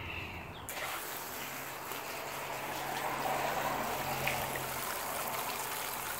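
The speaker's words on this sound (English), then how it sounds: "which should just spray water everywhere" A zone of a DIY automated garden watering system switches on and sprays water. A steady, fairly quiet hiss of spray starts abruptly after a brief moment of near silence and continues evenly to the end.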